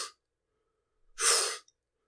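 One slow, breathy exhale through the mouth swells and fades like a wave, close and soft, after a short earlier breath.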